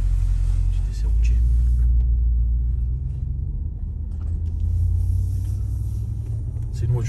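A tuned Audi RS7 with over 700 horsepower cruises on a road test drive, its engine a deep, continuous rumble filling the cabin while people talk over it.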